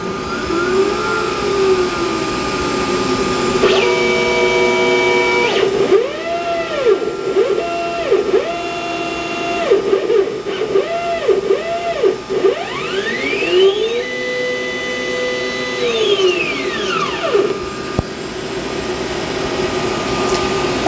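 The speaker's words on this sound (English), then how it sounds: "I'm going to go ahead and push the button to turn the machine on." A Glowforge laser cutter with an inline fan running, producing a loud steady whirring drone with repeated rising and falling electronic tones and motor whines throughout.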